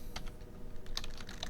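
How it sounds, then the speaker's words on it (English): Brief burst of typing on a computer keyboard while entering chart axis titles, a quick run of soft, close key taps. "We can type in our axis titles"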